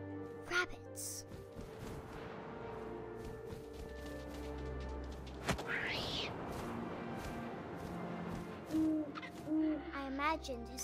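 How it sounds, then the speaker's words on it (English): In the video game What Remains of Edith Finch, an owl's hoot sounds amid a busy game soundscape of wind, rustles and low ambient tones, with scattered thumps and a rising whoosh partway through. "And suddenly, I was an owl."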